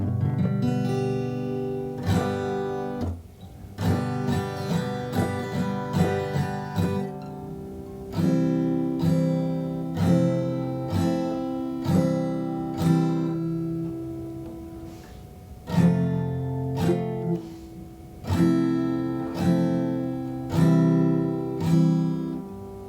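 An acoustic guitar strums a basic open chord again and again in a steady, unhurried rhythm, each strum ringing out before the next, close and clear with no voices.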